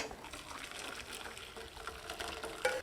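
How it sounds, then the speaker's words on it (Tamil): Boiled sarsaparilla root liquid pours and trickles steadily through a strainer, a soft continuous watery gush with a small clink near the end. "இதை வடிகட்டி எடுத்துக்கலாம்"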